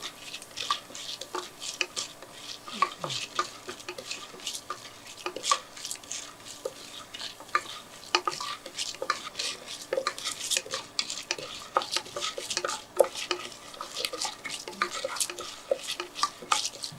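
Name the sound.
dried red chillies and mustard seeds frying in oil while stirred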